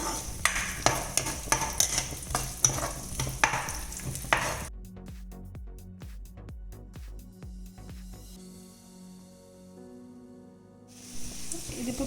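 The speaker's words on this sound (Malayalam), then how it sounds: "എണ്ണ ചൂടായതിന് ശേഷം ഇഞ്ചിയും വെളുത്തുള്ളി അരിഞ്ഞു വെച്ചിരിക്കുന്നത് ഇട്ട് കൊടുക്കാം. നമുക്കിത് നന്നായിട്ടൊന്ന് ഇളക്കി കൊടുക്കാം." Chopped ginger and garlic sizzle loudly in hot oil for an egg chilli dish, with a utensil scraping and stirring in steady strokes before the frying settles into a quieter hiss.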